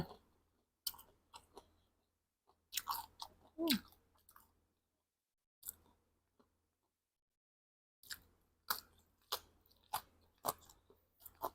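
Close, crunchy chewing of spicy Thai pounded cucumber salad with sausage, coming in bursts of crisp bites and chews separated by silent pauses, with no talking.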